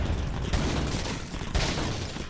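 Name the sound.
gunshots in video game Resident Evil 4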